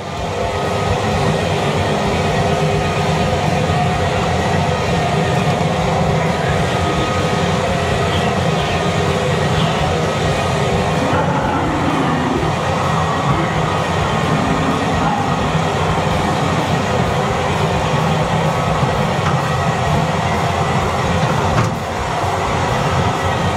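Continuous rumbling and rattling of a moving safari ride train at a dinosaur theme park in Clark, Pampanga, steady and loud throughout, with a brief shift in the noise midway.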